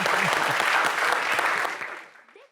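An audience applauds a singer taking the stage on a television entertainment show: dense, loud clapping that holds steady for about two seconds, then quickly thins and fades out.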